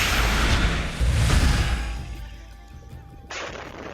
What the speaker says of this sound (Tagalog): Sugatan ang mag-ama matapos na sumabog ang mga biniling paputok sa Santa Barbara, Pangasinan.